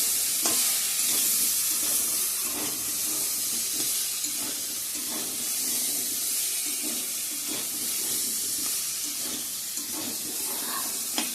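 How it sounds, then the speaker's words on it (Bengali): Vegetables sizzle as they fry in a pan, steady and loud, while a spoon scrapes and stirs them in repeated strokes close by. "তো সবজিটা আমার ভাজা ভাজা হয়ে গেছে"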